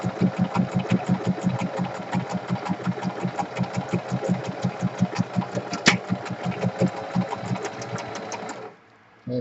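A sewing machine stitches across the bottom of a fabric envelope cover with a steady, rapid mechanical chatter of needle strokes. It runs close and continuous for about eight seconds, then stops.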